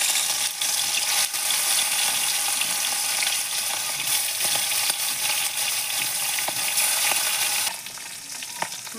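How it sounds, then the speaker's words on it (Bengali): Pieces of rohu fish frying in hot oil over a clay wood-fired stove, a steady close sizzle with scattered pops and crackles running throughout, dropping a little quieter near the end. "তেল গরম হয়ে গেছে, মাছগুলোকে আমি ভেজে নেব।"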